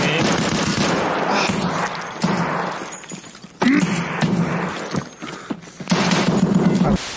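Video game gunfire rattles in dense automatic bursts and scattered single shots, loud and close, with occasional breaking sounds mixed into the busy action.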